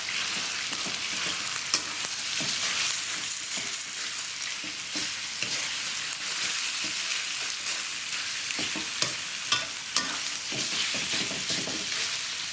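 Pork belly stir-fried with Thai curry paste in a hot pan, a continuous bright sizzle and frying crackle with frequent scraping stirs of a utensil, close and steady, no talking.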